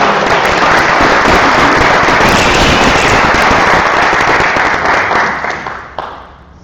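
An audience claps enthusiastically in a dense, loud burst of applause for a presenter at a meeting, then the clapping thins and tapers off near the end.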